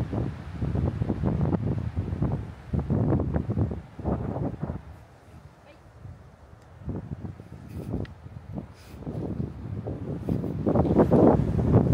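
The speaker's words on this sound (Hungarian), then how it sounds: "olyan szél van, valószínűleg halljátok is, hogy alig halljátok, hogy mit dumálok" Strong gusts in the Mátra mountains buffet the microphone in heavy, low rumbling bursts that rise and fall throughout, loudest near the end, with no talk.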